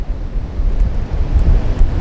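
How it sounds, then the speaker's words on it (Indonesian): Wind and surf at Glagah Beach on the southern coast of Java, Kulon Progo: strong gusts buffet the microphone in a loud rumble, with breaking waves churning beneath. "Saat ini kita berada di Pantai Glagah"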